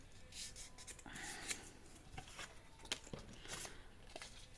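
A sheet of paper, cut to width, is folded in half for a handmade folio craft, giving soft, quiet rustling and faint scraping creases alone in a hushed room.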